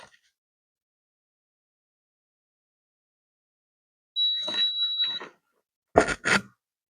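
Heat press timer alarm going off as a brief pair of loud electronic beeps, following a short steady tone with mechanical clatter after a long silent stretch.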